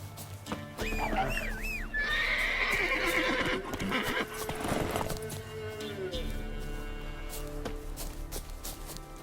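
Roach, a horse in The Witcher 3, whinnies loudly and then gallops off with clip-clopping hooves, game music and effects running underneath throughout.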